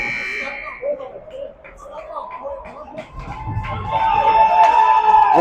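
A loud horn-like buzzer ends the period at a youth hockey game between Eagan and Rosemount, sounding as a sustained steady tone over the last seconds under arena crowd noise and a commentator's voice.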